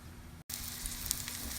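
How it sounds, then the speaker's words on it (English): Aromatics sizzle in a hot pan of clarified butter, a steady, close hiss and crackle with a brief gap near the start, no talking. "a couple of tablespoons of clarified butter, and these should be sizzling any second."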